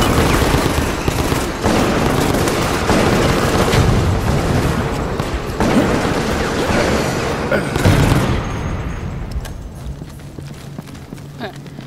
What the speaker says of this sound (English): These bombs are getting old.